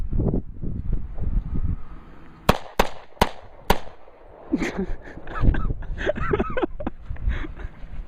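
Four sharp, loud gunshots ring out in quick, evenly spaced succession during a shooting practice session, with people talking before and after the shots.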